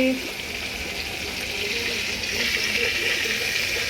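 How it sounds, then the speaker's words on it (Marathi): Mackerel frying in a pan, a steady broadband sizzle and hiss that holds throughout and swells slightly toward the end, with no voice over it. "मग बांगडे फ्राय करते"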